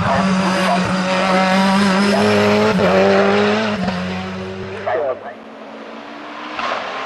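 A 700 hp Ford Escort Cosworth hillclimb race car drives hard close by, its engine roaring loud and continuously with revs rising and falling through gear changes, then easing off toward the end.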